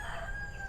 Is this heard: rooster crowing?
yes